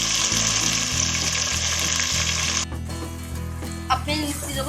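Minced meat frying in a pan with browned onions and ginger garlic paste gives a loud, steady sizzle that softens and settles partway through, with a brief stir or clatter near the end.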